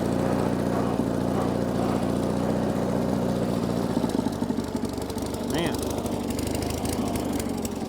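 A 1978 Sears GT18 garden tractor, long stored in a barn, runs rough and floods, its engine droning steadily and loudly with uneven sputtering throughout, with brief talk in the background.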